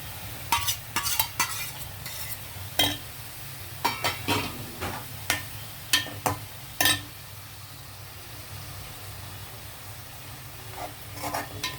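Tomato puree fries in a pan with green chilies and curry leaves, a steady low sizzle running throughout while a spoon scrapes and clinks against the pan in irregular bursts, busier early on and quieter toward the end.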